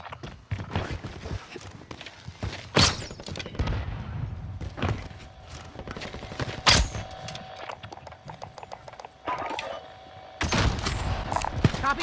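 Gunfire crackles through a first-person shooter match, sharp shots and bursts scattered across the stretch amid busy game noise, with a couple of louder nearby blasts standing out.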